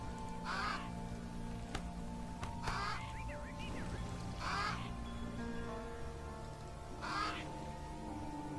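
A crow in the strategy game Age of Wonders III gives several harsh caws at intervals over a steady background of game music and ambience.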